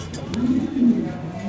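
A white Mundian pigeon coos softly in a couple of low, rounded phrases, close by, with faint background voices around it.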